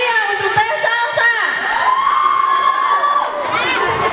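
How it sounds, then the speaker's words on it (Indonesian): A large crowd cheers and shouts at a high school fair, with excited children's voices rising in loud whoops and sustained cheering across the scene. "Kasih tepuk tangan yang meriah untuk Teh Salsa"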